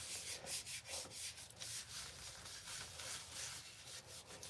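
Hands rub purple hair dye through hair in a salon, a steady close wet friction with repeated soft swishing strokes and no talking.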